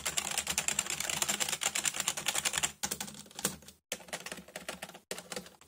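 Rapid keystrokes on a Roar RGB wired membrane gaming keyboard with a clicky feel, a dense close clatter of key presses that breaks off in short pauses toward the end.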